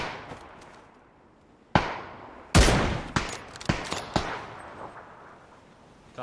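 Gunfire from a player's weapon in PUBG on the Erangel map: a handful of sharp, separate shots, one loud burst followed by a few quicker cracks that fade into faint background noise.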